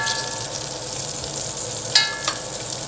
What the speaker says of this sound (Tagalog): So, fry naman natin tong sibuyas.